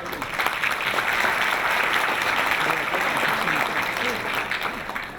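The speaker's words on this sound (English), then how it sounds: "Please give him a big round of applause." A crowd claps steadily and warmly throughout at a peace event in Myanmar, a dense wash of applause with a voice faintly heard beneath it.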